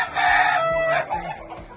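An Aztec gamecock and hens sound off together in a short burst: a loud, close rooster crow with hens clucking alongside, no talk.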